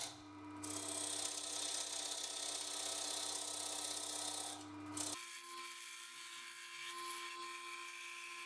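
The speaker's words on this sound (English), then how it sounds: "I use the flat chisel as a scraper to flatten the bottom." A flat chisel used as a scraper on wood spinning on a lathe gives a continuous, close, harsh hissing scrape with a steady motor hum; the tone shifts abruptly partway through and keeps going.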